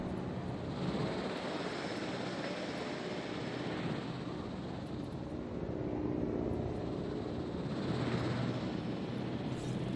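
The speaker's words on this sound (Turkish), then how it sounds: "Şu helikopterlere bak ya." Helicopters in Jurassic World Evolution, a broad continuous whirring rotor drone at moderate distance with gentle swells in loudness.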